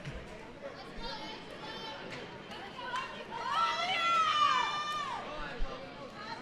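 Live fight crowd at a Knockout Fight League event, a steady hum of chatter that builds into louder cheering and shouts partway through, with a voice talking over it.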